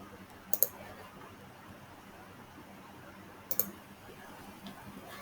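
A computer mouse gives two quick double clicks, about three seconds apart, faint and close against a quiet room hum.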